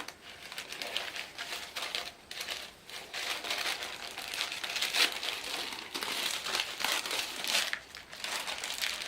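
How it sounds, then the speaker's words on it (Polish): Red ribbon and wrapping being undone on a beauty box, close crinkling and rustling of paper in irregular bursts, fairly quiet and continuous with no talking. "Ok, rozpakowuję czerwoną wstążeczkę."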